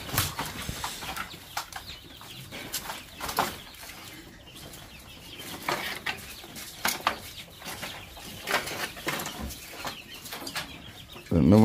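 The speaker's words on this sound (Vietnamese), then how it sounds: "hơn 100 con gà này." Chickens from a flock of over a hundred birds cluck and squawk in scattered bursts, with occasional wing flaps and a sudden loud thump at the end, in a noisy outdoor farmyard.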